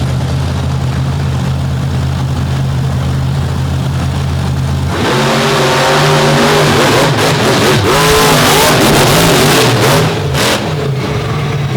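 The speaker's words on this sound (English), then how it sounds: "the Oldsmobile-powered Ford against the Chevy-powered Chevy" Drag race cars launch and accelerate at a drag strip, an Oldsmobile-powered Ford with a 557 cubic inch engine against a Chevy-powered Chevy; a low idling drone gives way to a loud, close roar of revving engines pulling away, rising in pitch.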